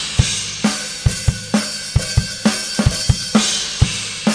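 Two-mic drum kit track processed with a high-pass filter EQ, a steady beat of kick and snare strikes with bright cymbal shimmer riding over the top, loud and continuous without any talking.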